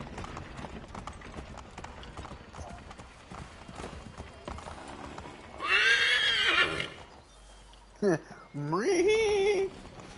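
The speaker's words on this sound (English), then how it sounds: "Don't know what I did to make the horse mad, but okay. I'm so sorry, horse." A horse in Assassin's Creed 3 trots with steady clip-clopping hooves, then gives two loud, close whinnies, the second following a brief quiet gap.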